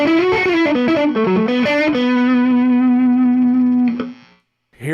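Distorted electric guitar, a Fender Custom Shop Stratocaster with bridge and neck pickups blended, plays a quick run of notes, then holds a long sustained chord that rings out and fades, with a brief strum at the end.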